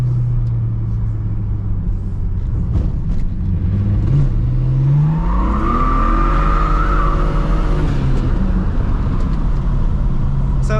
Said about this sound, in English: So the tires are getting hot and they're sliding a little bit easier